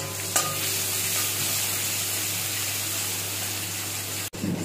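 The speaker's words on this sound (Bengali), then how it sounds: "হালকা লাল করে পেঁয়াজটাকে ভেজে নেব।" Chopped onion sizzling in hot oil in a wok, a steady, dense frying hiss that runs unbroken close to the pan, with a brief clatter near the start and a short dip near the end.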